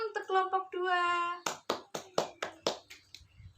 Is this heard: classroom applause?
yes